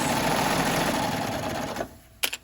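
A serger runs along the edge of a pillowcase with a steady fast whirring hum that stops near the end, followed by a couple of sharp clicks.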